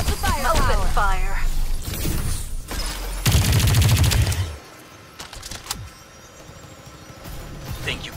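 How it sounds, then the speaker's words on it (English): Gunfire in the video game Farlight 84, with dense bursts of rapid automatic shots, mechanical clatter and impacts, and a character's voice speaking over the shooting. "Gotta keep up the firepower. Open fire."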